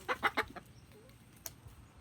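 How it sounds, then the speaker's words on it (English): A chicken on a Central Texas homestead gives a quick run of three or four close clucks, then a single fainter cluck, against quiet outdoor background. "sorry, distracted by a chicken."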